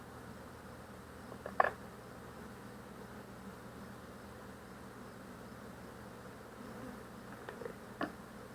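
Honeybees buzz in an open hive during a formic acid treatment against varroa, a steady faint hum with a few brief louder knocks or clicks, no talking.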